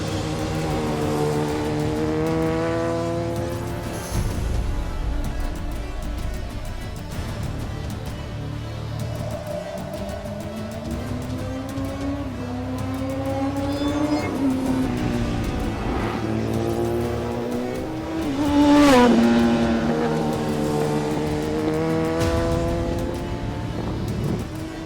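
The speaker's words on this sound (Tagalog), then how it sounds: "sarap naman talaga pakinggan ng exhaust notes ng ZX-10R, especially with the aftermarket exhaust na ikinabit sa review unit namin" A Kawasaki ZX-10R sports bike fitted with an aftermarket exhaust revs loudly and steadily, its engine note rising and falling through gear changes, with a sharp surge near the end.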